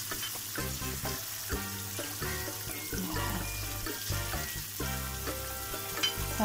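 Slices of palometa fish fry in a pan for a tomato-sauce dish, giving a steady close sizzle that runs throughout with light clinks and stirring noises on top and no talking.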